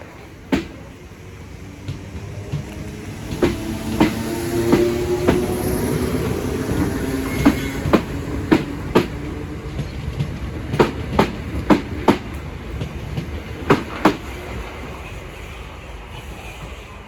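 A Southern class 455 electric train, unit 455825, passes through Sydenham station, making a continuous rail rumble punctuated by sharp, regular clicks of wheels crossing rail joints.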